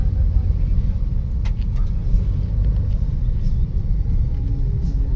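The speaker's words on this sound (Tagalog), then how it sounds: "Grabe ka traffic." Heavy street traffic in Tisa, Cebu City, a dense steady low rumble of cars and buses close by, continuous throughout with a few faint higher clatters on top.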